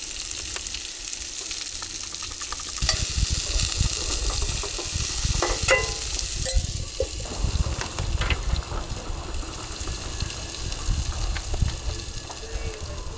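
Beans frying in a pan outdoors while overlanding in Maine, a close, steady sizzle with occasional stirring scrapes and clinks.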